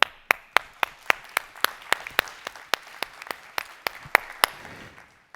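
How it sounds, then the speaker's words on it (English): A round of applause at the opening plenary of a geospatial industry forum, sparse, sharp individual claps from a small number of hands in an uneven rhythm, fairly close and fading near the end. "I want to give you a round of applause to everyone."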